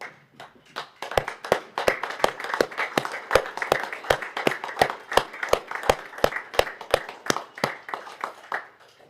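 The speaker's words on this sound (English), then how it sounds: "we should probably all be upstanding with applause for our 3 retiring councillors" A council meeting crowd stands and applauds its three retiring councillors, a run of sharp, fairly close hand claps in a quick steady rhythm, with soft room murmur underneath.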